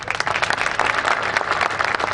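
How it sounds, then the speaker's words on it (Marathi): A crowd claps at a political campaign rally speech. The applause is dense and continuous, close and loud throughout, with no talk over it. "तुमच्या टाळ्या थांबल्या नाही पाहिजे"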